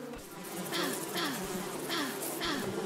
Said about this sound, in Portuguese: Aqui estão as abelhas, né? Deixa eu interagir, ver se eu consigo pegar.